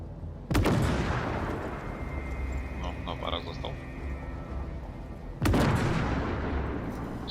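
Two sharp gunshots from an AMX-10P PAC 90 in a PvP video game battle crack out several seconds apart, each followed by a rumbling tail, with faint game sounds in between.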